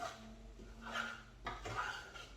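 A spoon scrapes and knocks softly against a pot as beef Madras curry is stirred, giving a few faint, close rubbing strokes with no talking.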